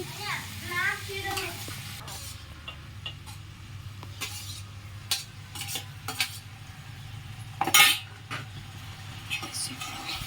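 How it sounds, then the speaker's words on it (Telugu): Prawns fry and get stirred in a pan, a low, steady sizzle broken by scraping spatula strokes and occasional metallic clinks against the cookware, with brief bits of speech nearby. "ఫ్రై చేసుకుంటున్నాను కొంచెం రెడ్గా అయిన వరకు ఫ్రై చేసుకోవాలి"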